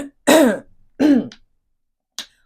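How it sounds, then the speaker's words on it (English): Two harsh throat clearings in quick succession, close and fairly loud, followed by a short faint click, with no talking. "I need to clear my throat"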